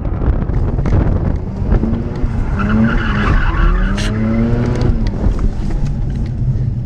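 A Mazda RX8 drifting: loud, sustained tire squeal and skidding rises and falls over engine roar and heavy wind buffeting, close to the car.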